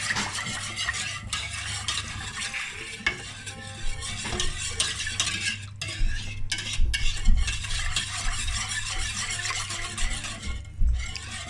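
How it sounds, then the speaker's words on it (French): A spoon stirs béchamel with sugar in a pot, scraping and clinking steadily and close up with a faint simmering sizzle underneath, and no voices. "وكنستمر في التحريك"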